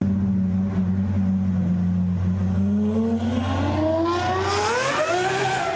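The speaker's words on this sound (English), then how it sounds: "when I hear the super loud rev that hurts the ears" Loud engine revving hard, holding a steady roar before its pitch climbs sharply as the throttle opens, dense and continuous with no talking.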